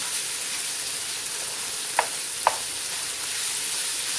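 Sliced filling for a Philly cheesesteak fries in a pan with a steady soft sizzle, broken by two brief sharp clicks of a utensil against the pan.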